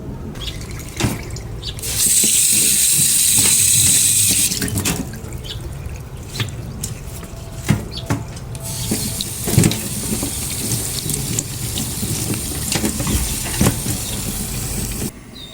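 Freshly harvested vegetables are rinsed under running water in an outdoor setting, with steady splashing and dripping, a louder stretch of stream noise early on, and scattered knocks and handling sounds throughout.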